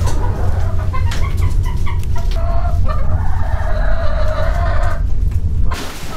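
A flock of chickens clucking and squawking close by, overlapping calls continuing steadily throughout.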